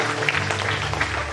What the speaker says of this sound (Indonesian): Boleh tepuk tangan buat Tuhan.